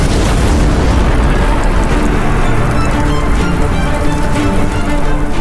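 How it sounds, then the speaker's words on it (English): A massive explosion destroys the giant French flagship L'Orient in a naval battle: a loud, sustained roaring boom with heavy low rumble that stays dense and powerful throughout, no voices. "The giant French flagship L'Orient is destroyed in a massive explosion"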